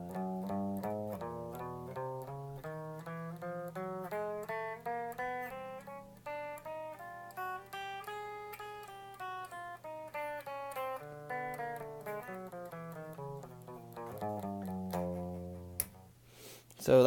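A sustained electric guitar plays a smooth run of notes climbing and then descending, an even warm-up pattern with no talking.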